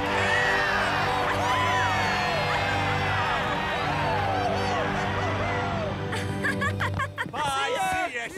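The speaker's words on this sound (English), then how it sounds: "I think it's our turn to cheer." Animated crowd of soccer fans cheering and whooping loudly at a stadium, a dense continuous roar of voices with laughter mixed in, closing with a short burst of excited shouting near the end.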